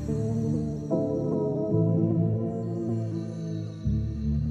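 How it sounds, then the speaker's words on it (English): Sustained music is run through a VHS tape degradation plugin, its pitch wavering with strong wow and flutter as the chords shift, played alone without voices. "all of them are basically emulating the sound of the bobbin that it's, you know, spinning all the time"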